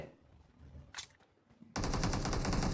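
PUBG Mobile gunfire: a couple of faint shots early on, then a loud, sustained burst of rapid automatic fire in the last second.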